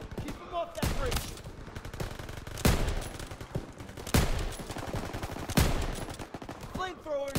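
Machine gun fire in the video game Call of Duty: WWII: sustained rattling bursts with several heavy booming impacts spaced a few seconds apart, loud and continuous, with a voice briefly audible.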